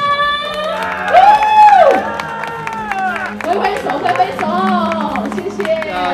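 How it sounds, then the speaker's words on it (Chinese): An audience at a night market food contest claps and cheers steadily as a winner is announced, while an amplified host talks over the crowd noise. "我们来掌声鼓励"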